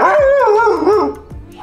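A dog gives a loud, close, drawn-out bark that bends into a whining howl, followed by a quieter trailing yip.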